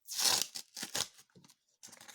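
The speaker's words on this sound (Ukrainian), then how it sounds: "Давайте відкриємо цей пакетик." Close, crisp paper tearing in a few short rips with brief pauses, like a small packet being pulled open.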